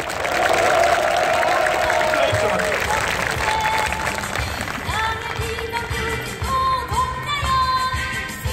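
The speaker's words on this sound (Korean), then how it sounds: "동지들 힘찬 박수 부탁드리겠습니다" Applause from an assembled crowd of union members at a rally launching a wage-bargaining struggle for Lotte Advanced Materials subcontract workers, a loud sustained wash of clapping with voices and music-like tones mixed in throughout.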